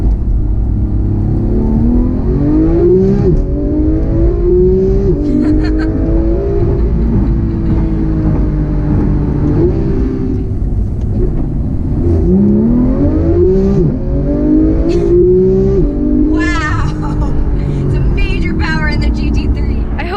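A Porsche 911 GT3 track car in manual mode accelerates up a freeway on-ramp in San Francisco, its engine note climbing through repeated rising gear pulls, heard from inside the cabin with steady road rumble and a voice talking over it.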